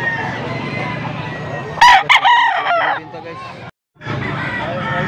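A rooster crows loudly and close by over a background of outdoor chatter and noise at a rooster sale in Pampanga, Philippines, with a brief drop to silence afterward.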